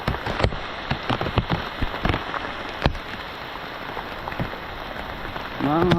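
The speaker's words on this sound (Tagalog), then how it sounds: "lakas ng ulan mga kautol." Heavy rain drums on a surface outdoors, a dense constant hiss punctuated by sharp louder drips and splats, with a voice briefly entering at the very end.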